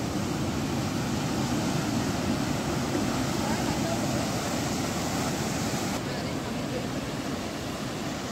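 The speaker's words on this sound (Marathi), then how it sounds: "समुद्र किती खवळलेला आहे रे तुम्हाला दिसत आहे." Rough sea waves at Chivla beach in Malvan, a loud, continuous broadband roar of surf mixed with wind noise and no distinct breaks.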